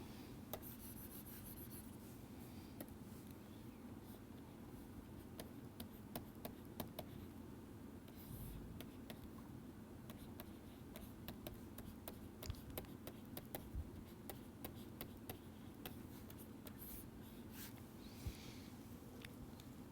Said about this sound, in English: let me write it again.